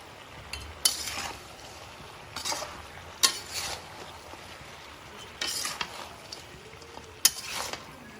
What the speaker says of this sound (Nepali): नुन बेसार लगाइसके पछाडि चाहिँ म अब एकछिन यसलाई फ्राई हुन दिन्छु।